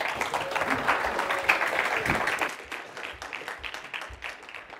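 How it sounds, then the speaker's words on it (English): Clapping from a crowd fills the clip, dense and steady at first, then thinning out toward the end. "give them a round of applause"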